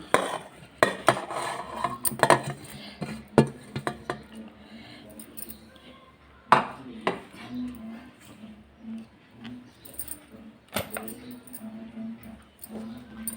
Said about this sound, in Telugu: ఇంకో మామిడికాయ కూడా ఇలా కోరుకోండి